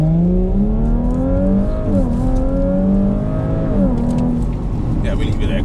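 A car engine pulls away from traffic lights, its steady loud drone rising in pitch as it revs up through two gear changes, heard from inside the cabin with a voice speaking briefly toward the end.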